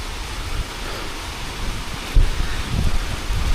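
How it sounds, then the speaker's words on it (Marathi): Steady rain falls at a hilltop Khandoba temple, a continuous broadband hiss with a slight swell partway through, and no voices. "वरती इल्यावर मस्त आता पाऊस पडलो, थंडगार असा वातावरण हा"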